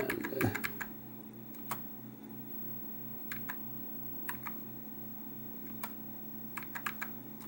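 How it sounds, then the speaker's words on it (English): Typing on the keyboard of a Commodore SX-64 portable computer: scattered sharp key clicks, a quick burst near the start then single and paired taps spaced across the span, over a steady low electrical hum from the machine and its built-in CRT. "It's hard to type and film at the same time."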